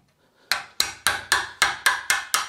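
A hammer taps on an oak hardwood door during a new door installation, eight sharp, evenly spaced knocks, close and clear with no talk.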